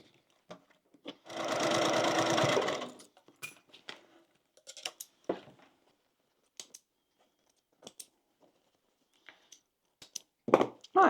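A sewing machine stitching fabric for a crossbody bag, one steady close run of about two seconds, followed by scattered clicks and handling noises in near silence.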